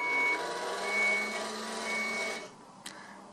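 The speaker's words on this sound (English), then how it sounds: "he has a reversing sensor beeper" A toy robot's reversing sensor beeper sounds a steady run of evenly spaced electronic beeps while the robot backs up, close and clear, then cuts out with a brief click.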